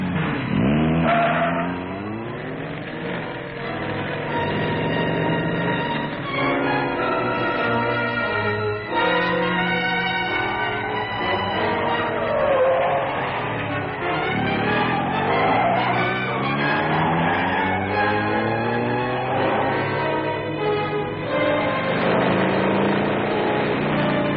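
A 1950s car races over a winding mountain road, its engine revving and straining continuously for a long stretch, with shifting pitch as it accelerates through the turns.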